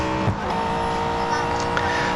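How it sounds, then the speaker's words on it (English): A Holden Commodore ZB racing car engine roars steadily in the video game Real Racing 3 at Laguna Seca, with tires skidding faintly underneath and a brief squeal. "anytime you hear a car skid"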